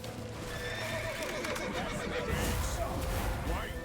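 A horse whinnies in The Witcher 3: Wild Hunt with a rising and falling cry over steady hoofbeats and background game sounds, with no break in the noise.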